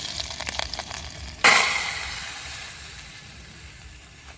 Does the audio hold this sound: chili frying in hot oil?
yes